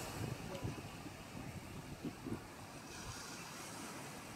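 Large ocean waves and surf roll in a broad, steady wash outdoors, with wind buffeting the microphone and a few low thumps through the rush; no talk stands out in the clip.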